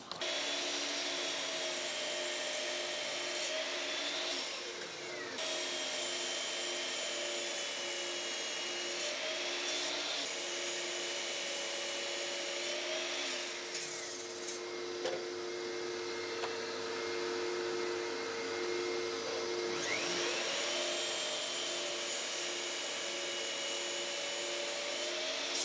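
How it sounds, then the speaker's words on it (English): A miter saw chopping small wooden blocks into end-grain coasters: a steady motor whine with the blade biting through wood in several separate cuts, each marked by a dip and a brief change in pitch. "I can put that against my fence, against the base of the miter saw, and we can chop away"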